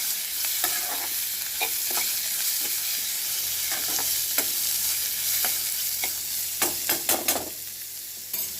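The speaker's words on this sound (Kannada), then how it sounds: "ಇದಕ್ಕೆ ಈರುಳ್ಳಿ ಹಾಕ್ತಾಯಿದ್ದೀನಿ. ಆಮೇಲೆ ಸ್ವಲ್ಪ ತಾಗಿಸ್ಕೋಬೇಕು ಇದನ್ನು." Onion sizzling as it fries in a pan, a continuous close hiss with scattered stirring clicks and scrapes that grow busier toward the end, with no voices.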